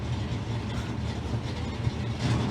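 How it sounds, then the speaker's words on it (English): A Battle of Britain Memorial Flight Avro Lancaster bomber, running on three engines, makes a low pass over a drag racing venue, its steady deep piston drone loud and continuous throughout. "the Battle of Britain Memorial Flight Lancaster buzzes the tower"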